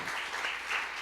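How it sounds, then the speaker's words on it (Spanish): A church congregation claps loudly in sustained, dense applause during an evening worship service, steady throughout with no voices over it. "dale un fuerte aplauso en esta noche"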